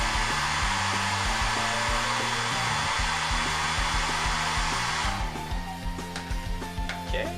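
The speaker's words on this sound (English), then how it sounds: "I'm just going to use my little hairdryer to loosen up the hand a little bit." A small hair dryer blows with a steady, loud whoosh on a toy figure, with some clicking and thumping behind it toward the end.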